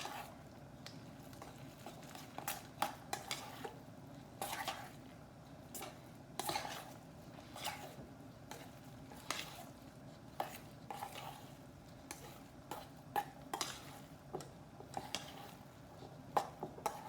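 A knife stirs and blends a spaghetti pie mixture in a bowl, making soft scraping and tapping knocks against the bowl at an irregular, steady pace, close by and fairly quiet.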